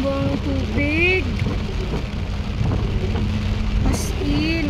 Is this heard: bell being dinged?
no